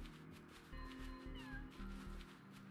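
A cat in the video game Wuthering Waves gives a few short meows over a steady game music bed, close and moderately loud.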